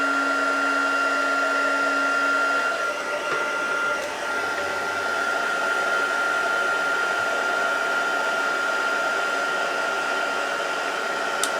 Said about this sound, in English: let this warm up just for a few seconds, and then it will just heat up the embossing powder nice and quickly